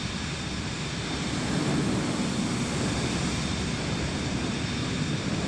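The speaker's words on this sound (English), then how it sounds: "I hear a jet behind me." A jet flies behind the player in Microsoft Flight Simulator 2024 over the California hills, a loud, steady broadband engine roar that stays constant throughout, with no speech.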